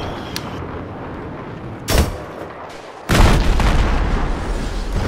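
Explosions in a video game, two loud broadband booms, one at about two seconds and a heavier sustained blast past three seconds, over continuous game noise.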